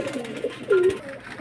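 A pair of fine-quality pigeons at a pigeon sale give a soft, throaty coo that swells briefly near the middle of a short stretch, close by and alone, with faint background murmur.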